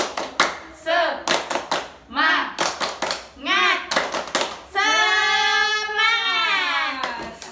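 A group performs the tepuk semangat spirit clap at a school practice session, sharp rhythmic bursts of close clapping alternating with shouted chanting voices, ending in a long drawn-out group shout.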